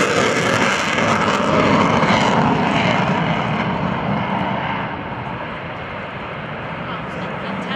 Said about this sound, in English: he'll already have the Hornet's engines in afterburner, just in case